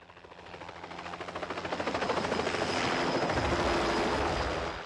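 A helicopter flies in a film fight scene, its rotor thumping in a fast steady pulse over a loud engine whine that swells as the aircraft draws closer and then holds steady.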